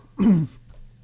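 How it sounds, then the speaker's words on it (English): A single short, harsh cough close to the microphone, followed by quiet. "I got an annoying cough."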